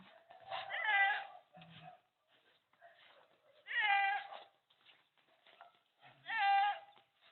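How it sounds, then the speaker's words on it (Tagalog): Three loud goat bleats sound at intervals, each a wavering nasal cry, with quieter animal noises in between. "Ang ingay na ng mga kambing."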